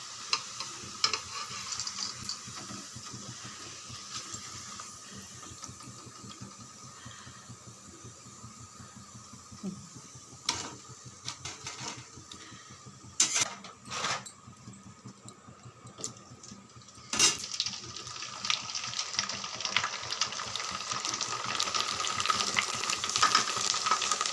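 Sun-dried vathal crisps frying in hot oil: a soft, continuous crackling sizzle with scattered sharp pops and ticks, growing slightly denser and louder toward the end.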